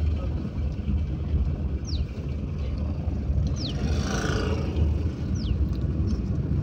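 A car engine rumbles and pulls forward after a shift into second gear during a beginner driving lesson, a steady low drone heard from inside the cabin with faint wind noise.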